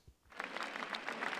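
Crowd of faithful applauding along the route of a Marian procession in Pamplona, Navarra; after a brief low thud, a faint, distant patter of clapping rises and holds.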